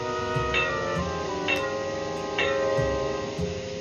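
A gong is struck three times at an even pace as a fallout warning signal, each strike ringing out with a lingering metallic tone.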